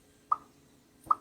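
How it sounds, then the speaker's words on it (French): Elephone PX smartphone camera shutter, two short soft clicks about a second apart, quiet and close. "Ça, c'est le son de la caméra."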